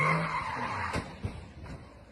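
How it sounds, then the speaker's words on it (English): Tires on a mountain touge road squeal and skid as a car breaks traction while drifting, a moderately loud screech with short bursts and a brief thump near the end. "The tortured howl of tires as they break traction and lose grip on the road"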